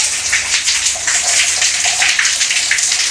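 A shower runs in a 150-year-old house, a loud, steady hiss of spraying water, close and continuous with no voices over it.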